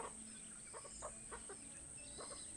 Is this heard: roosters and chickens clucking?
yes